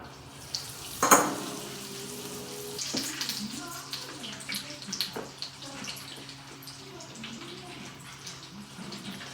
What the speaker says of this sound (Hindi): और इसको हम स्लो आंच में फ्राई करेंगे।